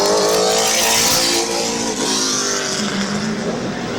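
Late model race cars running on track at Midvale Speedway, close and loud, engines revving and howling with shifting pitch as cars go by in a continuous roar, no one speaking.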